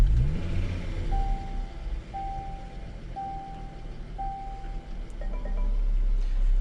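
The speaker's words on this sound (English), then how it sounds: "If we go ahead and start up the car," A Range Rover Velar P340 runs with a steady low engine rumble inside the cabin while a dashboard chime beeps four times at even intervals.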